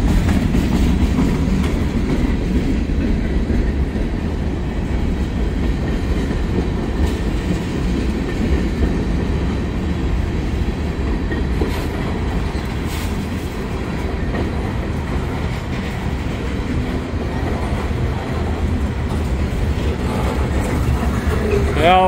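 Loaded freight train rolling past with gondola cars full of steel coils, a steady, loud low rumble and rail clatter lasting throughout, with faint voices underneath.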